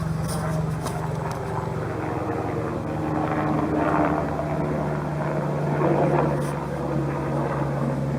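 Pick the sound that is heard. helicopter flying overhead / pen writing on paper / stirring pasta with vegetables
helicopter flying overhead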